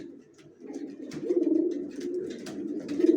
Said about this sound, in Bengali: নর কীভাবে ডাকতেছে জোড়া নেওয়ার জন্য।